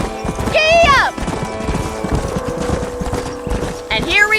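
A horse's hooves clip-clop at a brisk, steady rhythm in the Western video game Red Dead Redemption. A loud whinny rises near the start and another near the end, with some voices in the background.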